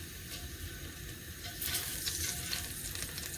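Small pickling onions fry in a pan with a steady, close sizzle that runs throughout and grows a little louder and brighter partway through, with no talking.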